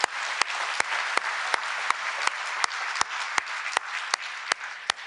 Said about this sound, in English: We're going to clap a lot.